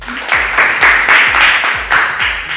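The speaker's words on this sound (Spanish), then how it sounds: "Un aplauso muy fuerte para ellos." Applause for quiz winners on a school radio programme, sounding as a bursty rhythmic series of loud clapping pulses, roughly five or six swells with low thumps between them.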